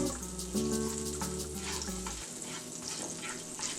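A sandwich with vegan cheese fries in butter in a pan, a steady crackling sizzle with a low hum early on, close and continuous, with no talking.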